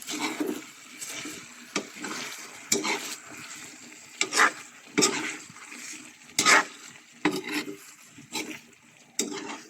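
Water splashes and pours into a pan of cooking chicken feet in bursts, with stirring and sizzling noises between them, close up and fairly loud.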